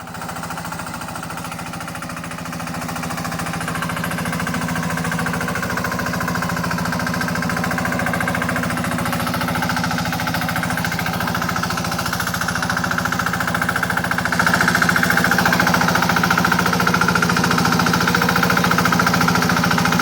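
A bao-bao hand tractor engine runs continuously in a flooded rice field, a loud, rapid, steady chugging that holds for the whole stretch with no talk over it.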